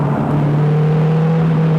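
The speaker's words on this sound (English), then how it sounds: "It's rough and gravelly, it's a really snorty engine." A Caterham 310R sports car engine drones steadily at a low pitch, rough and throaty, with a faint higher whine rising partway through; close and continuous, no talking.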